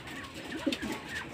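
Soft pigeon coos sound close by in a loft, a few low rolling calls over quiet background noise.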